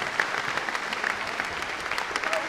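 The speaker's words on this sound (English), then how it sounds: "Can we give them a round of applause, please?" Steady applause from a school audience at a house music competition, dense and continuous clapping filling the whole moment at moderate loudness.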